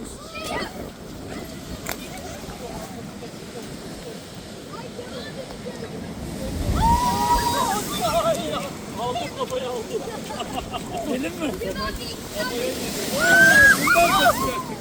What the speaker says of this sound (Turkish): dalgalara bakın arkadaşlar